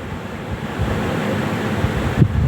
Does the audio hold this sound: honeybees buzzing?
no